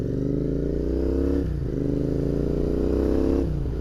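A Royal Enfield Interceptor 650 motorcycle rides along a road, its engine droning steadily and close, with two brief dips in revs like gear changes before pulling again.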